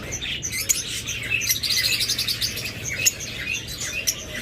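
Pet ring birds in an aviary chirp and tweet repeatedly, a busy overlapping chatter of short, bright calls near the listener with no talking.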